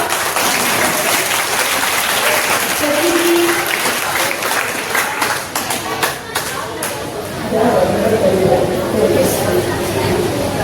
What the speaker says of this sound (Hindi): तो इन सबके लिए पहले जोरदार तालियां